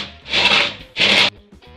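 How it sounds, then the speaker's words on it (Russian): Cornflakes are crushed with a Staropramen beer bottle, giving two loud, close, rasping grinding strokes in a quick rhythm, each lasting about half a second, with a brief pause between them. "Довольно неплохо оказалось молоть вот эту вот хлопья бутылкой"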